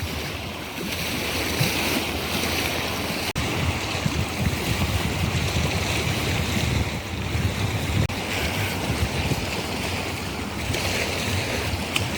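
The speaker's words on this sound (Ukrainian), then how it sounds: "Хвилі" Water waves wash steadily and close by on a spring walk, a continuous rushing surf mixed with buffeting wind on the microphone.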